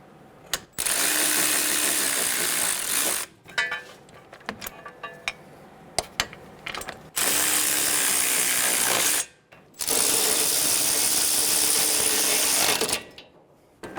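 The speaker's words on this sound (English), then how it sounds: "Snug the bolts down." A ratchet snugging bolts on the front brakes of a 2011-2014 Hyundai Sonata, three long bursts of rapid clicking close up, separated by short pauses with small metallic taps.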